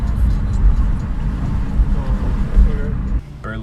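A Toyota RAV4 drives along with a steady low road rumble and engine hum from inside the cabin, with a voice talking over it.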